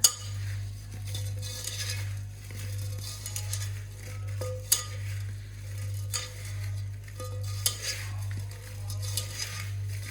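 Spoon stirring and mixing citron pickle ingredients in a pot, with scattered clinks and scrapes against the vessel over a steady low hum.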